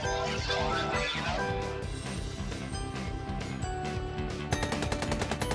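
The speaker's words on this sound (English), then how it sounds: "Gunfire erupts from behind SCP-682." Gunfire in the SCP Doki Doki Anomaly game, a dense burst of shots and impacts crackling over a busy, low-level mix, with another sharp volley near the end.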